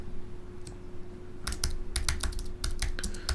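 Keys clack on a computer keyboard in quick irregular bursts, starting with a couple of isolated taps and then a dense run of typing, close and fairly loud with no talking.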